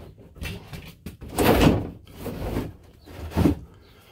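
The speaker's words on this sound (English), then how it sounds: "Sliding pocket door." Sliding pocket door inside a 1967 Airstream Overlander twin-bed trailer, rolling open and shut in a few close, moderately loud wooden rumbles and thumps with no talk.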